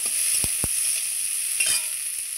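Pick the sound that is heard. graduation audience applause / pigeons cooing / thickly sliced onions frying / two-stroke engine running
thickly sliced onions frying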